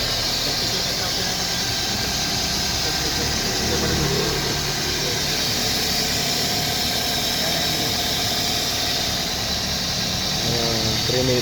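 A 2004 Toyota Altis 1.6E with automatic transmission idles steadily after a cold start, a continuous broadband engine hum with hiss, close by, with no talk over it.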